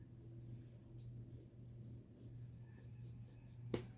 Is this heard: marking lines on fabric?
yes